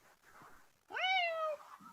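A pet cat lets out a single clear, drawn-out meow at close range, rising then holding steady for about half a second before trailing off, with quiet room noise before and after.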